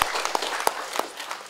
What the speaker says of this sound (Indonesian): mari kita beri tepuk tangan untuk Bapak Ibu semua